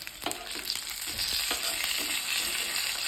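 Fish roe fritters fry in a hot pan with oil, a steady close sizzle and crackle running throughout, with a few soft clinks and stirring scrapes near the start.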